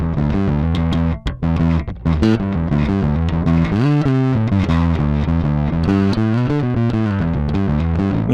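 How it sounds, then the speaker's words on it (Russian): A bass guitar played through a NUX NBP-5 bass preamp with overdrive distortion, loud and close, in a run of gritty sustained notes and short plucked phrases with no talk. "Мне нравится такой овердрайв."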